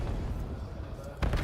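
A grenade goes off in a competitive esports shooter match, heard as a brief loud burst near the end, following a stretch of steady low rumble and background noise.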